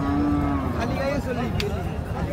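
A cow moos loudly and close at a rural cattle market, one long drawn-out low call rising and bending in pitch over a constant hubbub of background crowd noise.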